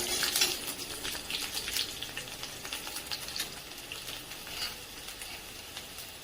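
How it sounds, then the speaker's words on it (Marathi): Peanuts fry in a pan with a close, steady crackling sizzle, broken by stirring scrapes as garlic cloves are added partway through; no one speaks. "शेंगदाणे चांगले परतून घ्यायचे. शेंगदाणे व्यवस्थित परततायत तर तोपर्यंत त्यामध्ये टाकून घेऊया लसूण पाकळ्या"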